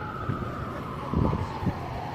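A faint, steady emergency vehicle siren wails in the distance over low city rumble and traffic noise on a Manhattan street.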